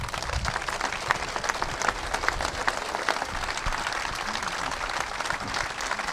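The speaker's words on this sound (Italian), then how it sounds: "Questo applauso te lo devi godere." Audience applause for Giuseppe Scopelliti at a public event, a dense, steady wash of many hands clapping that carries on evenly throughout, with no voices standing out.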